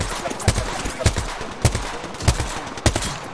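Apex Legends gunfire cracks out in a run of about six sharp shots spaced roughly half a second apart, loud and close, with a low thump under each one and faint game noise filling the gaps.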